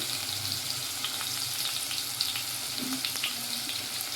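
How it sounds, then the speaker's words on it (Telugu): Spices, ground coriander and green chillies fry in a pan for Maggi noodles, a soft, steady sizzle with faint stirring scrapes and no talking. "ధనియాల పొడి కొద్దిగా హాఫ్ స్పూన్ అలా మొత్తం ఫ్రై చేసుకోవాలి"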